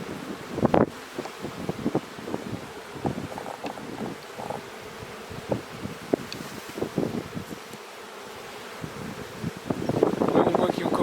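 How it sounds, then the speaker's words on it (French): Wind gusts blow across the microphone outdoors during a spring beehive inspection, rising and falling throughout, with scattered handling knocks and a stronger rush toward the end. "parce qu'il y a un peu de vent."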